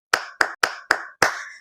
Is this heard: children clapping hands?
yes